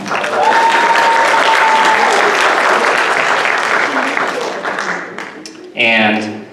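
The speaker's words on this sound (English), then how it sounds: "So please give a round of applause to all of them." A stage finale crowd at a Vietnamese festival pageant claps loudly for several seconds, a dense sustained applause that gradually thins out, with a brief burst of sound near the end.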